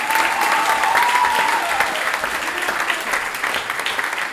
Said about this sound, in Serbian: ampak en aplauz za njo